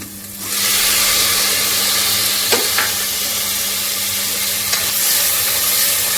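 Garlic drops into hot oil for a tempering and sets off a loud, close, continuous sizzle with a couple of faint stirring clicks, and no talking.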